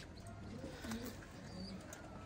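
Pigeons kept by a long-time hobbyist coo softly in a few low, rounded calls over a steady background hum, with faint chirps scattered above.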